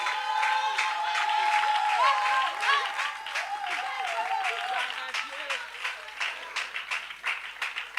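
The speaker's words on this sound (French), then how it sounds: "C'est le cas de notre sœur Mélèche Colette que nous recevons maintenant avec des acclamations bien nourries." Church-style audience gives a warm round of applause with scattered cheers and voices, a dense, steady clapping that stays loud before thinning slightly toward the end, with a voice or music tone running underneath.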